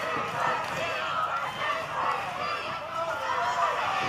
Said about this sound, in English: Listen to the crowd though, Josh.